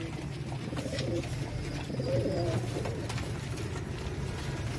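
A flock of loft pigeons, several settled down low, keeps up a continuous murmur of throaty coos. The calls overlap and swell slightly midway, near and even, with no talking.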